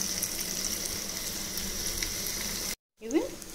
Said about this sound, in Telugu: ఇది మంచిగా ఫ్రై చేసుకోవాలి